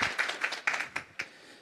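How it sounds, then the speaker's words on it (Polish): Brief, sparse applause from a small audience at a popular-science evening talk, a handful of distinct claps in an uneven rhythm, fairly quiet and dying out within a couple of seconds. "Brawa."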